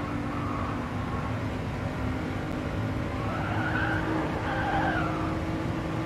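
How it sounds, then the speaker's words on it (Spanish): A 2017 Ford GT in Gran Turismo Sport slides and skids at the Nürburgring, a steady engine roar carrying rising tire squeals in the latter half, with no talking. "Se corre mucho el coche."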